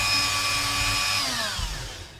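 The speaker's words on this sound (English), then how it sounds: "doing a nice, smooth, consistent dig with the Dremel" A Dremel rotary tool carving into metal for a Nordic pauldron gives a high, steady whine with clear harmonic tones that slide downward near the end as the bit slows under load, close and loud.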